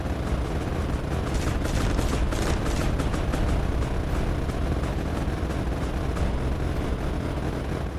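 Rapid gunfire from newly introduced units in the video game Mindustry, a dense sustained barrage of overlapping shots and blasts that stays loud and continuous throughout.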